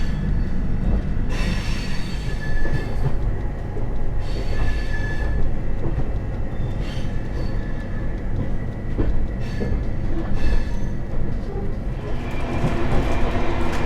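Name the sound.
Tejas Rajdhani Express train leaving New Delhi station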